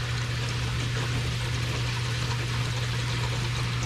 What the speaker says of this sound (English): And it's going through the other pipes into the softener. I can hear it.